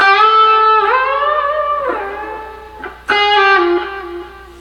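A slow electric guitar lick with bends, a slide and a pull-off: a few sustained singing notes that bend and glide, a brief dip, then a fresh picked note ringing out, clean and close.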